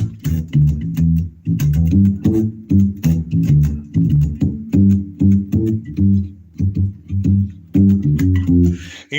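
Fender Precision bass played in the muted Motown style, a steady run of round, thumpy low notes with short decays and a clear pulsing rhythm, heard alone with no talk.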